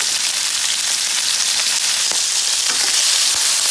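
Rabbit meat fries in a paella pan for paella valenciana, a loud continuous hissing sizzle close up with a few faint stirring taps.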